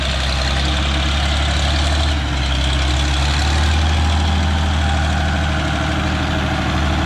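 A tractor engine runs steadily and loudly nearby while levelling ground with a loader bucket, a deep continuous rumble with mechanical vibration and no voices.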